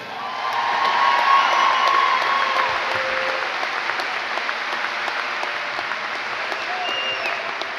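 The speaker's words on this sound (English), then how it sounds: "Please give a big applause to our nurses." A large crowd at a school district convocation claps for the district's nurses, a loud, dense, sustained roar of applause with scattered whoops and cheers rising through it.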